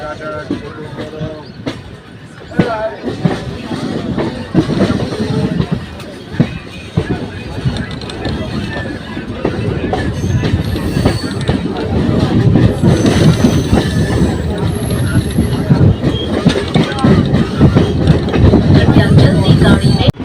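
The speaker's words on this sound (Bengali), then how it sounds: "দেখুন ট্রেনটা কিভাবে কার্ভ নিয়েছে," A Howrah–Katwa local commuter train rumbles and clatters steadily as it rounds a curve, with wheel noise and rattling carriages growing louder over twenty seconds. A voice talks over the train noise.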